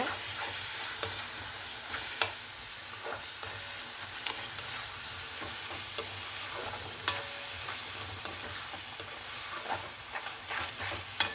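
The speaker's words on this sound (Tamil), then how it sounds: "சர்க்கரையை சேர்த்து நல்லா அப்படி கலக்குங்க." Spoon stirring sugar into a carrot and beetroot mixture in a pan, giving a steady soft scraping with faint sizzle and occasional light clicks throughout, no voices.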